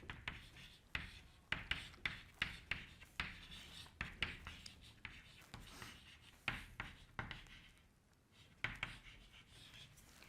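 Chalk or marker strokes on a board during a physics lecture come as short, rhythmic scratches and taps in quick bursts with brief pauses, close and fairly faint.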